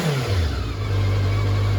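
A 1989 Honda CB1 motorcycle engine idles steadily at about 1,500 RPM, its pitch settling from a brief dip into an even, close, continuous hum.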